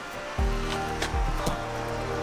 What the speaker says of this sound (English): Just a little creek right now.